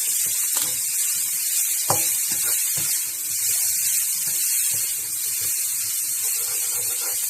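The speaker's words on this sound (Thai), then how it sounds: "ผัดให้เข้ากัน" Shrimp and pork stir-fried in a hot pan give a steady, close sizzle with bright hiss throughout, broken by occasional scraping and clinking of a utensil against the pan.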